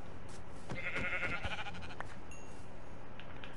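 A sheep bleats in Minecraft, one wavering cry near the start over a steady background hiss, with no talking.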